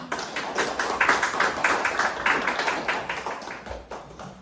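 Applause from an audience in a small meeting room at the National Assembly library, welcoming a speaker at a teacher-training forum: dense steady clapping held for about four seconds with no talk.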